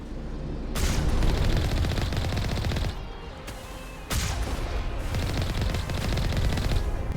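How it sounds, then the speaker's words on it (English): Rapid cannon fire in the Mass Effect video game on Insanity difficulty, dense bursts of loud overlapping shots running almost the whole time, with a short lull near the middle before the barrage resumes. "Move nice and slow out of the way of those cannon shots."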